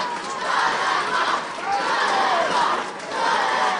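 A large crowd at an All-Ireland Junior Cup rugby final roars and cheers as the teams take the pitch, a loud sustained swell that rises and falls in waves.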